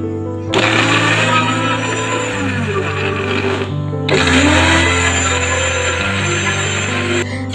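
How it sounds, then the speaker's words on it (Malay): An electric blender grinds spice paste ingredients in two loud bursts, each a steady whirring roar lasting a few seconds, separated by a short pause. "Dan untuk bahan-bahan yang tadi tu pula, saya akan kisar sehingga lumat."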